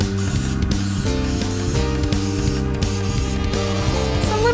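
Cooking spray misted over cheesy veggie tots before baking, heard as a continuous hissy spray layered under bright, looping background music for a few seconds.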